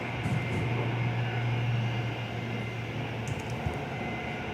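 An Airlink plane takes off from Perth airport, a steady engine roar with a sustained low drone that holds throughout, loud and fairly close, with no voices.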